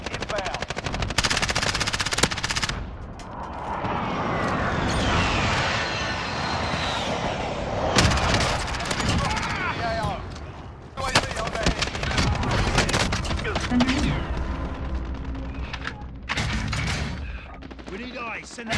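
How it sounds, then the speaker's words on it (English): A cluster strike in the Warzone shooter game pounds the area with a long, loud barrage of rapid gunfire and explosions, dense crackling bursts broken by short lulls, with game voices cutting in now and then. "Cluster strike away."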